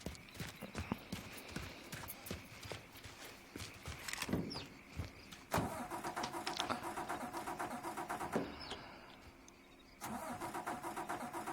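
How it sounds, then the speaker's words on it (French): A truck engine starts up in the video game Mafia III, cranking and catching into a steady mid-pitched idle, with scattered clicks and thuds before and a brief break near the end. "on va conduire son camion de merde."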